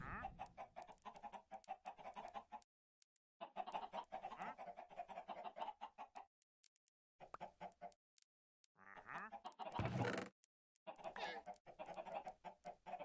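Chickens clucking in the video game Minecraft, several short bursts of fowl calls in separate clusters, moderately near, with a louder squawk near the end and no talk over them.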